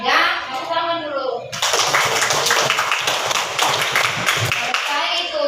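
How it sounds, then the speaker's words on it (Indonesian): Schoolchildren in an elementary school classroom clap together loudly in a dense, sustained burst of many hands, close and filling the room, following a teacher's voice at the start. "Oke, ya, tepuk tangan dulu."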